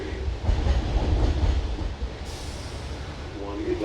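The JFK AirTrain runs with a steady low rumble and a rushing hum from inside the car, fairly loud and continuous, while muffled voices talk over it.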